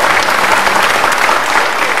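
A studio audience at a televised political talk show claps steadily, a dense, even wash of applause filling the full two seconds without pause.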